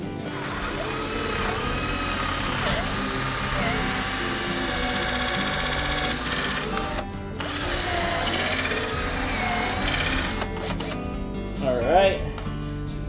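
Power drill whirring steadily through wood while building an inexpensive floating dock, running continuously for several seconds with a short break, close and loud, with people talking over it.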